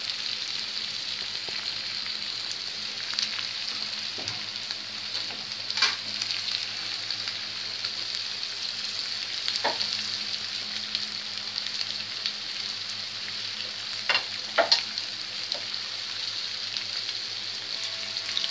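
Meat and onions for Egyptian kebab halla fry in a pan, giving a steady, close hiss and sizzle throughout with occasional sharper crackles and pops.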